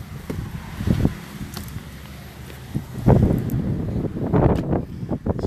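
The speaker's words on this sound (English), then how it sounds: "so you might hear more of the wind than you do me" Strong wind on the Indian River shore buffets the microphone in heavy, rumbling gusts that swell and ease throughout, loudest in the second half.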